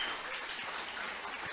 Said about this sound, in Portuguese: uma salva de palmas para o Eric